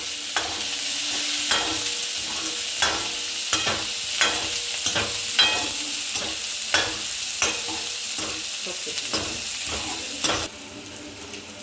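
Onions and chillies fry over high flame in a pan for a mutton dish, a bright sizzle punctuated by regular, rhythmic scraping strokes of a spoon, until the sound drops away abruptly near the end.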